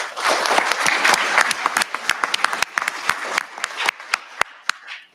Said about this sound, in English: One round of applause for Mr. Malachi Pillmore.